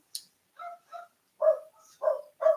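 Several dogs barking in short bursts, a few sharp woofs spaced apart with a brief yip at the start, fairly close and clear with no talking.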